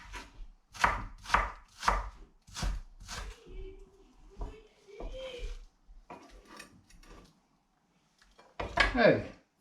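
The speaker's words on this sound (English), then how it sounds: "chop the onion on the top" A knife chops through an onion on a cutting board in a series of sharp, rhythmic thuds, loud and close, then stops and gives way to a stretch of talking and a brief clatter near the end.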